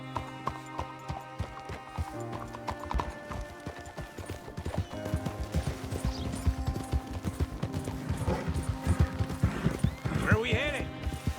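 Steady clip-clop of horse hooves trotting at an even pace in the video game Red Dead Redemption 2, with a whinny and voices speaking over a dense background.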